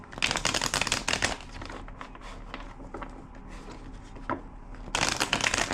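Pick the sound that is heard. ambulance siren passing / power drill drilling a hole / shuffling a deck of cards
shuffling a deck of cards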